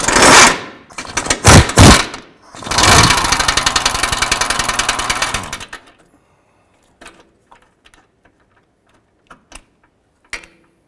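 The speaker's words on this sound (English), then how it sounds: "I'm going to go ahead and remove this bolt here." A bolt on the differential mount of a 2005-10 Jeep Grand Cherokee is removed with a loud powered impact wrench, two short bursts and then a longer rattling run. After it stops come a few faint clinks and taps.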